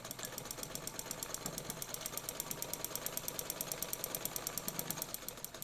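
A Necchi BU Mira sewing machine stitches at fast speed, a rapid, even mechanical chatter of needle strokes running steadily from start to finish at moderate loudness.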